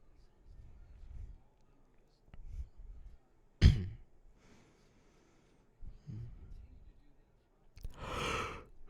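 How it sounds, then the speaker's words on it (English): A man yawns close to the microphone, one long breathy exhale that swells and fades, between short bursts of his quiet talking and breathing. "Sorry about the yawning."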